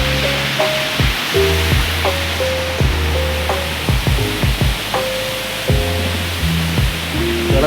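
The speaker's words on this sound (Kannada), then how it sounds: "ಗುಡ್ಡದಿಂದ ನೀರು ಬರ್ತಾ ಇದೆ" Water pours down a hillside near a temple, a loud, continuous rushing roar with music-like tones layered over it throughout.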